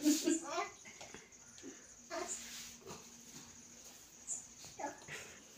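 A dog at a home birthday gathering whimpers and gives short yips and barks in scattered bursts, fairly quiet, while people talk nearby.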